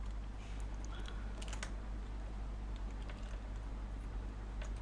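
Typing on a computer keyboard while laying out a document with footnotes and page numbers, a quiet, steady patter of small clicks over a low room hum, with no talking.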